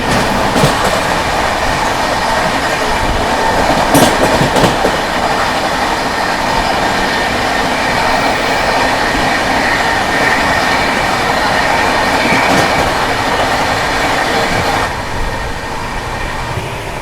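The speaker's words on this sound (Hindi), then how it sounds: "सामने से आ रही है चंडीगढ़ से चलकर मडगांव की ओर जाने वाली गोवा संपर्क क्रांति एक्सप्रेस आती हुई" Chandigarh–Madgaon Goa Sampark Kranti Express train rolling in with a loud, continuous rumble and rhythmic wheel clatter over the rails, close by and steady throughout with no voices.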